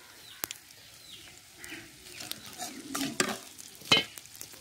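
Black mustard seeds hit hot oil with already-fried garlic in a pan, giving a quiet, steady sizzle broken by a few sharp pops and crackles.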